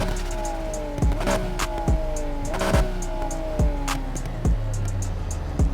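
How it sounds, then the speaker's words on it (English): A Nissan Skyline R34 with a forged RB26 engine swap revs repeatedly in the video game Need for Speed Heat, each rise in pitch ending in a sharp exhaust pop, several cycles in quick succession with a deep stock exhaust tone underneath. "the stock tone of the exhaust, because it gives me that like deep sound"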